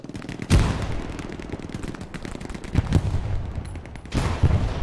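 Rapid bursts of machine gun fire crackle through a Hell Let Loose battlefield, with dense rattling volleys at the start, a sharper burst near the middle and another heavy burst at the end, loud and fairly close.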